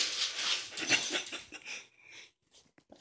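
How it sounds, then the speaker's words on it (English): A dog gives a few sharp barks and yelps up close, then trails off into quieter whimpers and small noises. "I don't know what he's barking at, people."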